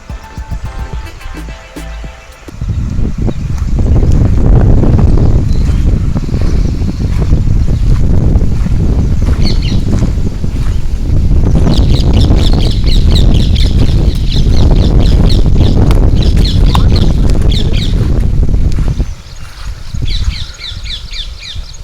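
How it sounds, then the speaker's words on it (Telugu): Loud, steady rush of water falling in a forest near Vijayawada, a continuous roar with birds chirping intermittently above it, starting abruptly after a quieter opening. "నీళ్లు పడుతున్న సౌండ్ వినిపిస్తుందా"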